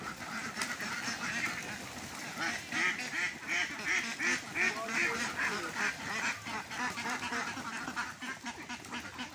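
Flock of farm ducks quacking loudly and continuously as they are let out and flutter from their pen, a dense overlapping chorus of calls close by.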